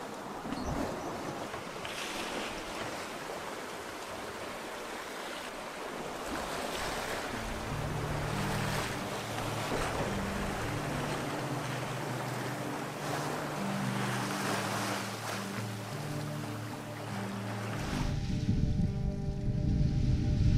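A sailboat slides along the Gulf of Alaska past Lituya Bay, with steady broadband wash of ocean waves and wind against the hull; a low tonal hum enters midway, and the swell noise grows louder near the end.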